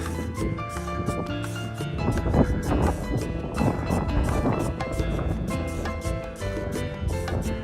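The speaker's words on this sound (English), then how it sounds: "There's quite a strong wind blowing." Strong wind buffets the microphone on a hillside coastal walk at Sa Falconera, Menorca, a steady loud rumbling gust noise with fluttering swells running throughout, no one speaking.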